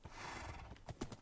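A horse in Minecraft snorts and shuffles, followed by a few hoof clops and a short whinny, quiet and close.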